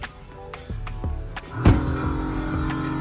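Air suspension on a VW GTI calibrates and shifts the car's height, giving a soft mechanical whir and hiss with low clunks and one sharp thud as the body settles, all fairly quiet and close.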